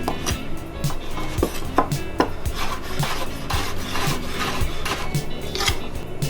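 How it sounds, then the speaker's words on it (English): Knife chopping potatoes on a wooden cutting board, a steady run of close, crisp knocks and scraping strokes repeating about twice a second with no talk. "I'm just cutting them all roughly the same size so they cook all evenly"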